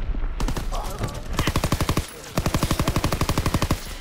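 Rapid automatic gunfire in a shooter video game rattles off in two long bursts with a brief pause between, loud and close, with a faint voice underneath.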